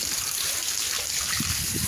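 Rainwater runs steadily after a morning of heavy rain, a continuous close gushing and trickling flow with no talk.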